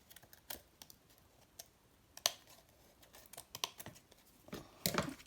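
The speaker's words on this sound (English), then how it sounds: "I'm just going to get a pair of scissors and just chop" Scissors snip and chop through paper in a series of quick, faint, irregular cuts at close range, with a louder cluster of snips near the end.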